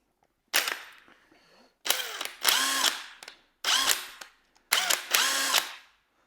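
A Seesii WH710 cordless impact wrench loosens a car wheel bolt in four loud, close bursts of rapid hammering, each lasting about a second, with short pauses between them.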